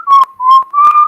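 Three short notes whistled while sucking air in, clear and close, each held briefly with slight wavering pitch and breathy edges.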